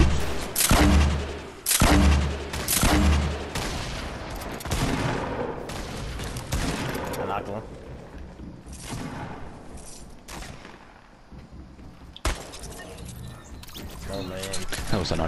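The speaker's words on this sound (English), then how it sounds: "That was an unnecessary shot." Gunfire in a first-person shooter video game: bursts of shots ring out loudly at the start, then continue more sparsely under ongoing talk.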